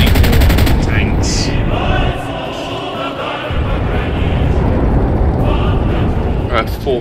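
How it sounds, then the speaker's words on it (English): Loud, sustained machine gun fire rattles in rapid bursts in the WWII shooter game Enlisted, with a dense, close barrage that barely pauses. "Do you see the cursed thing I'm firing at? I love just an adapted machine gun."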